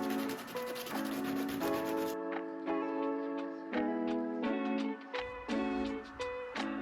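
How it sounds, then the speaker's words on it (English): Scrap metal sphere halves sanded smooth after a rough Dremel cut, heard as steady, rhythmic rubbing strokes that fill the clip over a bed of tonal music, with no talking. "I sanded them both down until I was happy with the symmetry"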